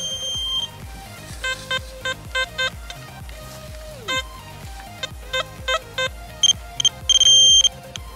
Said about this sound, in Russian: был еще один какой-то сигнал